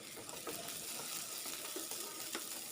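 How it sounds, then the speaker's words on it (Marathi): Chopped onion and green chili frying in oil in a wok after cumin and mustard seeds, giving a soft, steady sizzle with a few faint stirring scrapes, quiet and close, no talk. "चिरलेला कांदा थोडासा 1 सेकंदभर परतून घ्यायचा आहे व हिरवी मिरची घालायची आहे."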